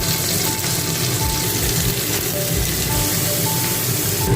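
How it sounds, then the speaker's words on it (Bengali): Steady, dense sizzle of vegetables and tempering spices frying in oil inside a pressure cooker for a dalia khichdi, a close, continuous crackle with no talking. "তেল দিয়ে এই ফোড়নটা দিয়ে দেবো"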